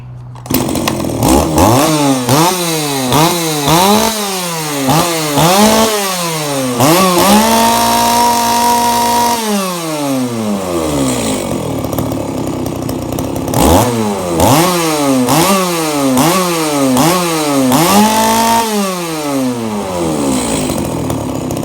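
An Echo V3800 chainsaw engine revs up and down repeatedly in quick bursts, holds a high whine for a couple of seconds, then revs again, loud and close.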